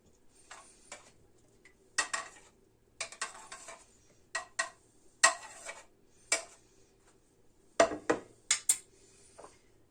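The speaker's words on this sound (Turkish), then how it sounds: "Bu kapta karıştırmak istiyorum çünkü." Scattered clinks and scrapes of utensils against a bowl while mixing potatoes for potato salad, irregular bursts of mixing with pauses between, fairly close and clear.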